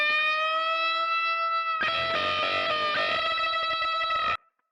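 Electric guitar with a basic blues tone, room reverb and slapback delay: a sustained ringing chord gives way to a busier passage with bends and layered echoes, then cuts off abruptly.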